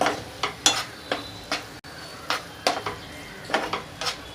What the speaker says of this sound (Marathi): आता आपण त्याला मिक्स करून घेऊया त्या ग्रेव्हीमध्ये